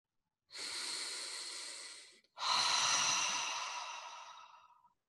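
Slow, deep breathing during a guided meditation: one long, airy exhale, a brief pause, then a second, even longer breath that fades out gradually. The sound is close and clear with no talking.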